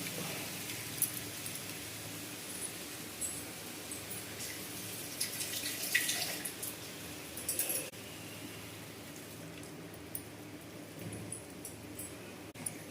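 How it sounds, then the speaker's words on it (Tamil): Water runs and splashes quietly into a mixer grinder jar as it is rinsed, with soft clinks and a faint trickle, no one speaking. "மிக்சியை கழுவி கொஞ்சம் தண்ணி ஊற்றுறேன்"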